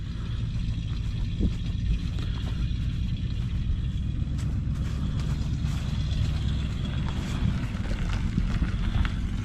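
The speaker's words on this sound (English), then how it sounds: "It's got a flat, but he's literally driving it up here." A 1973 Dodge Dart Sport creeps along on a flat tire, its low engine rumble steady and nearby, with scattered clunks and thumps from the deflated wheel over the drone.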